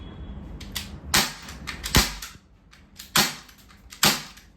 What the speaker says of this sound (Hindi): चलिए थोड़ा सा और फायर करके देखते हैं।